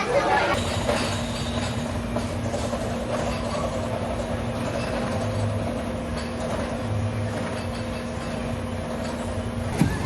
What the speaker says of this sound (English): It's now time for what I think is an Arrow mine train.